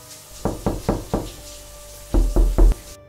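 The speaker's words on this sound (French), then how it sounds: "Ça fait toc toc toc." Knocking on a door in two bursts: four firm, evenly spaced raps, a pause, then three louder raps close by, with no voices.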